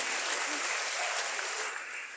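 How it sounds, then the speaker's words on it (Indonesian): An audience claps for Puang Amran Sulaiman at a youth forum, a brief even wash of applause from a crowd that fades slightly toward the end. "Tepuk tangan"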